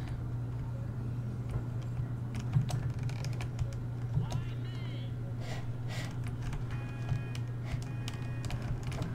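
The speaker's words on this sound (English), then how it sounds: "you may hear my keyboard" Computer keyboard typing sounds as scattered clicks and tapping bursts under a steady low hum, fairly quiet and close, with a voice speaking at moments.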